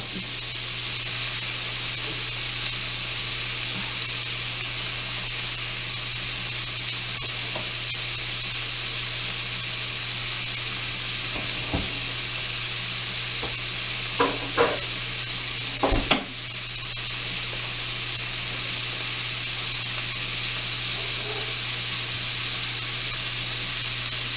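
Cajun shrimp sizzle and hiss steadily in a hot pan for the whole stretch, a constant frying wash broken by a few brief clinks of a utensil near the middle.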